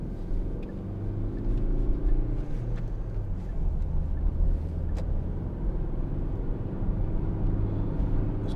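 Hyundai i40 1.7 CRDi diesel car moving off smoothly, a muted low engine rumble and road noise heard from inside the cabin, steady with faint clicks and no voices.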